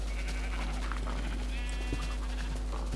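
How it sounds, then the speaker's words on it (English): Minecraft sheep bleat over a constant low hum, a few wavering baa calls rising from the game ambience at moderate volume. "You just hear the sheep just above us"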